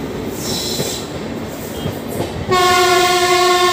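Passenger train 03423, running from Lucknow toward Bareilly, slowly pulls out with a low rumble of rolling wheels, then a loud, sustained horn blast sounds close by.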